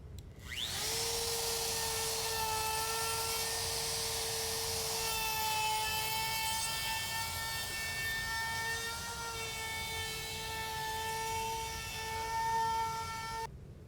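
A router cutting a round over along the edges of a live edge wood entryway table, a loud, steady high-pitched whine with a strong tonal drone that holds for about fourteen seconds before cutting off.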